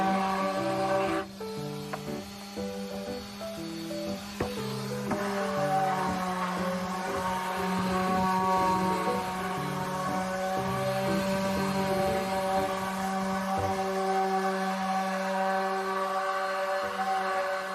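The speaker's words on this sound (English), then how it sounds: "Using a sander to finish it up will definitely give it that high-end professional look" An electric sander finishing a wooden tapered column gives off a steady, loud motor hum with a high whine that runs unbroken throughout, with no voices.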